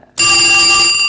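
A telephone bell starts ringing abruptly and loudly after a short quiet lead-in, a steady bright electronic ring with no talk over it.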